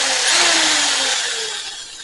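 A small power tool whirs loudly and close while a model kit is being assembled, holding a steady high whine for about two seconds before easing slightly.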